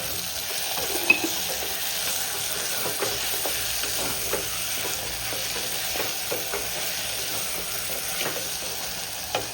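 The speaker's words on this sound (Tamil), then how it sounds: "உப்பு போட்டால் வெங்காயம் தக்காளி வதங்கும்." Onions and tomatoes with salt sizzle steadily in a pan, with a constant frying hiss and occasional soft stirring scrapes, and no talking.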